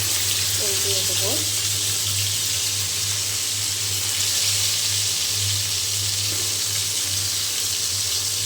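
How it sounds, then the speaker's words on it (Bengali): Pangas fish fries in a pan, giving a steady, even sizzling hiss throughout with a low constant hum underneath and no clear pauses. "এই যে পাঙ্গাস মাছ ভুনা করব, ভেজে নিচ্ছি"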